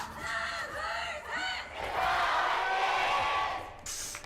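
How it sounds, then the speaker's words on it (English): A large esports crowd at an Overwatch playoff match roars and cheers loudly, with yells and whoops swelling into a sustained wall of noise before easing off. "Alright, crowd is loud."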